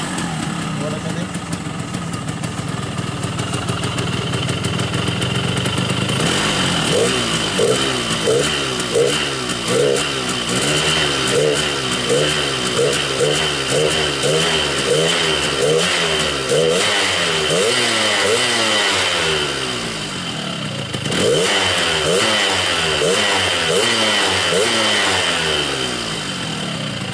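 A 2007 Yamaha RX King motorcycle engine with a muffler idles with a steady chugging throb, then revs up and down in repeated surges, loud and close, with a brief dip before picking up again.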